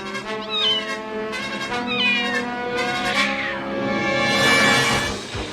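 A saber cat snarls and yowls up close in drawn-out, wavering cries that swell into a harsher, louder snarl toward the end.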